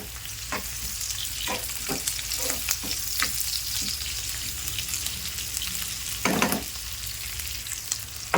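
Onions fry in a pan with a continuous close hiss and sizzle, broken by scattered spatula scrapes and one louder stirring burst near the end, with nobody speaking.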